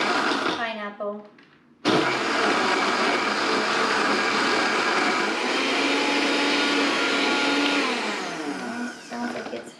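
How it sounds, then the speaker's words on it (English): A countertop blender kicks on abruptly after a quiet moment of talk and runs loud and steady for several seconds while mixing a pineapple drink, its whirring motor droning evenly before easing off. "going to pulse it on the blender a couple times, just kind of get it starting to mix"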